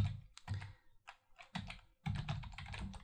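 Computer keyboard keys tapped close up on a Linux machine in short irregular runs, a few separate clicks and then a denser burst of typing near the end.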